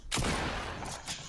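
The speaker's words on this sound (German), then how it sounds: "ein Schuss nach oben." A single sharp gunshot fired upward in Fortnite cracks loudly, followed by a brief rumbling tail, with a second softer burst near the end.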